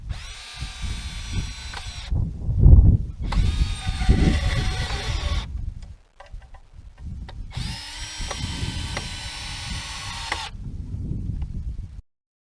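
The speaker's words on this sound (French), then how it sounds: "Et puis on visse les deux morceaux ensemble." Power drill driving screws through wooden trellis pieces, three long whirring bursts separated by pauses, loud and close, with low knocks and handling noise between runs and no talk.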